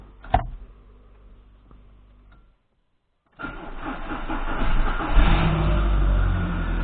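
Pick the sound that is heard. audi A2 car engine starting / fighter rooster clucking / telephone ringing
audi A2 car engine starting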